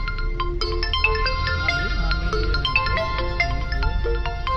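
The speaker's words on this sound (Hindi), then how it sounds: "बहुत सारा फोन आ रहा है।" A phone rings with a melodic ringtone, a bright electronic tune of repeating notes that plays steadily throughout.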